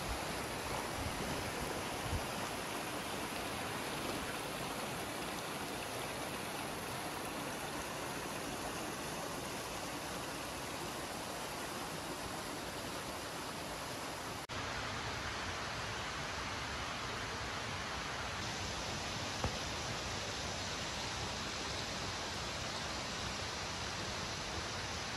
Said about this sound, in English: Up that way, there's a waterfall, so if it sounds like wind noise on this footage,